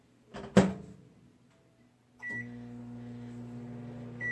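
A microwave oven door clunks shut, then the microwave starts and runs with a steady hum close by, a faint beep near the end.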